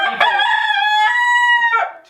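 A rooster crows once, loud and close, a long drawn-out call with a few soft clucks around it, in a coop with 15 hens and 2 roosters.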